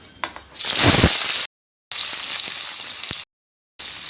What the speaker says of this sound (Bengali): তেলটা গরম হয়ে গেল, আমি অর্ধেক পনির ভেজে নিব।